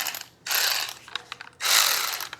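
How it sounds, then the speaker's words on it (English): A bolt runner ratchet spins a bolt out during serpentine belt, idler pulley and tensioner work on a 2006 Colorado, giving two loud, close bursts of rapid mechanical clicking with a few isolated ticks between them. "take this bolt runner and use it if I can get it down in there"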